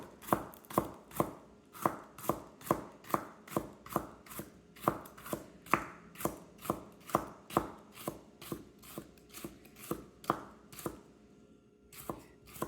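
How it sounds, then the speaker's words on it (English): Knife finely slicing onions lengthwise for julienne, a rapid, even series of crisp chops on a cutting board, about two per second, close and clear with a short pause near the end and no speech. "we're going to start cutting very, very finely, like so"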